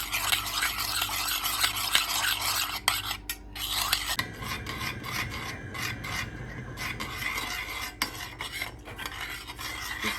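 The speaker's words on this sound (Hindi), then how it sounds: "हमने जी 100 ml पानी लिया, उसमें 2 चम्मच हम जेलेटिन डालेंगे। इसको अच्छी तरह मिक्स करते हैं" A spoon stirs two spoonfuls of gelatin into 100 ml of water in a pot, making a steady, close rasping scrape that runs without a break and coarsens partway through.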